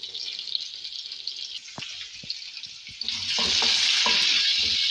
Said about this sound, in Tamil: வெங்காயத்தை வதக்குறோம்